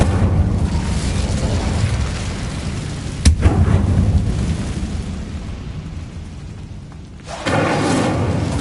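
Incendio fire spell cast in Hogwarts Legacy, a sudden loud whooshing burst that rumbles on for several seconds before cutting out, then a fresh roaring surge near the end, with no talking.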